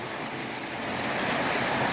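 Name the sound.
waterfall at Khun Korn, Chiang Rai, Thailand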